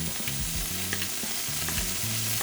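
Pork browning in a pan gives a constant sizzle under a low, steady background hum that rises and falls, with faint stirring clicks and no talking.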